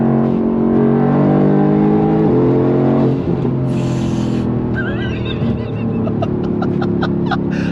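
Mercedes-AMG GT R bi-turbo sports car engine pulling hard on throttle, a loud sustained harmonic roar with rising pitch through a gear change, close and continuous throughout, with no talking over it.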